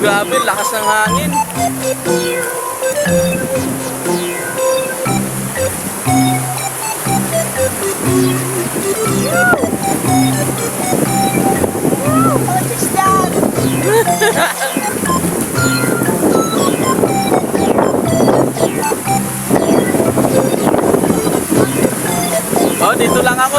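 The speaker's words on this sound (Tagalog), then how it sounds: "Grabe, lakas ng hangin." Strong wind buffets the microphone over sea and engine noise aboard a fishing boat at sea, while people talk loudly throughout.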